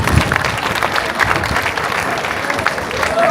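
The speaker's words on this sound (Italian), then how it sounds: "li salutiamo sempre con un vostro bellissimo applauso" Outdoor audience applause at a folk festival, a steady wash of many hands clapping with crowd murmur underneath, continuous across the whole moment.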